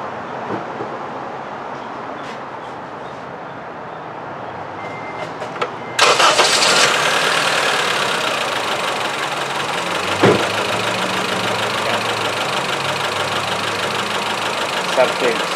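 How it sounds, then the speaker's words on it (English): A Honda Civic with a misfire cranks and catches abruptly after several seconds of quiet background, then settles into a loud, steady idle with a slight uneven knock. "I will start the car and see how the engine vibration right now."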